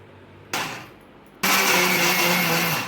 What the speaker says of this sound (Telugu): మిక్సీలోకి ట్రాన్స్ఫర్ చేసుకొని కొంచెం బెల్లం వేసుకొని తిప్పుకోవడమే